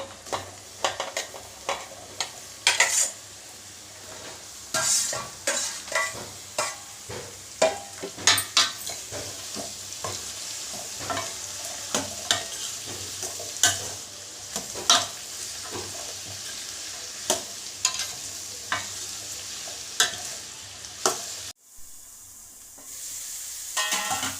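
Snake gourd pieces frying in oil with ginger garlic paste in a pan, a steady sizzle broken by frequent sharp scrapes and knocks of a spatula stirring, continuing throughout without talk.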